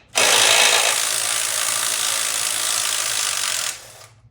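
A hand ratchet works loose the bolts on a Harley touring primary cover, making one loud continuous rasping burst of clicks for about three and a half seconds.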